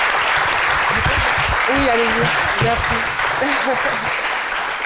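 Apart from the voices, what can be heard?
audience applauding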